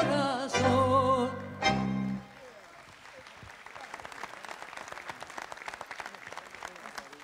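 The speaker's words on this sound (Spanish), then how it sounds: "El aplauso del público para ella" A tango singer's sustained final sung note and a held closing chord give way to warm audience applause, a steady dense clapping that builds and carries on for several seconds in a concert hall.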